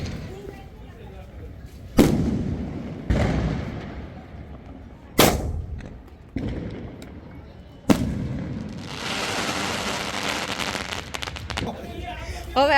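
Diwali firecrackers burst near a home in a series of sharp, loud bangs spaced a second or two apart, each echoing off into a rumbling tail, followed by a longer crackling, hissing burst.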